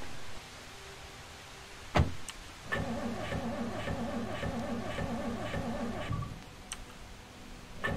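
In the Project Zomboid video game, a car engine cranks over and over in a steady, rhythmic churning for about three seconds, preceded by a sharp click and followed by another click afterward.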